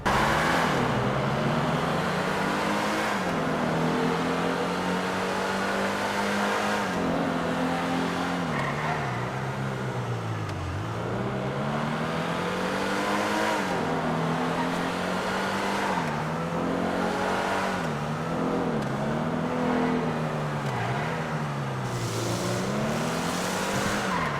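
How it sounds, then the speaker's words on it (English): A car out on a test drive, its engine droning loudly and steadily, with the pitch repeatedly rising and dropping as it accelerates and shifts through the gears, close to the microphone and with no talking. "Should we just test drive it, see how it looks, see how it performs and stuff?"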